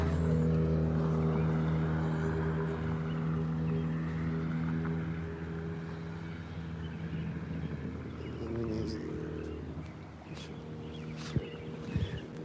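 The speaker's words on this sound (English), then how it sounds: "there's an engine sound behind me as he turns" A car engine drones steadily nearby as the vehicle turns and drives up a street, then fades and shifts as it moves off, ending among small clicks and handling noises.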